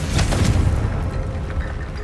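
A Confringo fire spell in the Hogwarts Legacy video game bursts in a deep, booming explosion, followed by a rumbling low roar that slowly fades.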